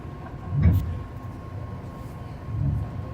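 Inside a packed moving commuter train at Flushing Main Street, a steady low rumble runs under a faint electrical whine, swelling briefly at a couple of moments.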